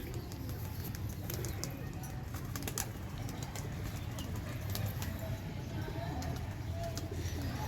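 Pigeons of a Sialkoti flock coo softly at a distance in a loft setting, with scattered chirps over a constant low background rumble.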